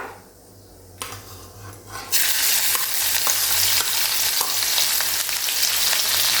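Crushed chilli thecha hits hot oil for a methi zunka tempering, already seasoned with crackled mustard seeds and asafoetida. After about two seconds of quieter frying, a loud, dense sizzle bursts up and holds steady, with no voices.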